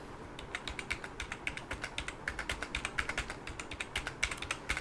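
Quick, steady keystrokes on a computer keyboard as numbers are typed into Excel cells, a dense run of light clicks at an even rhythm, close-up and without voices.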